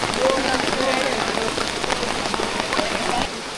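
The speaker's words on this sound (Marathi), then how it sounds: "अचानक पाऊस आला इकडे." A sudden downpour at the Matheran hill station gate, steady dense rain drumming on surfaces close by, continuous and fairly loud with no pauses.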